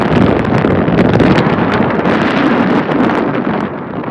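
Strong wind buffets the microphone on an exposed Alaskan ridge in winter, a loud continuous roar with gusty rustling that eases slightly toward the end.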